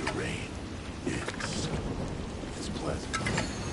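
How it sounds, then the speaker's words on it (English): Rain pours steadily while thunder rumbles in a Disney Dreamlight Valley game landscape, a continuous loud wash of stormy noise with a few sharper crackles and rolls, nobody speaking. "Gosh, it's really thundering."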